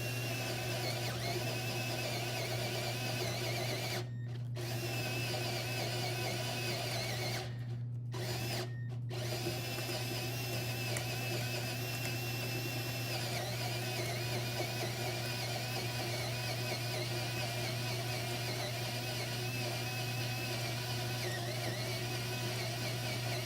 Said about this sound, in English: typically with a Forstner bit, you really want to have it kind of on a slower speed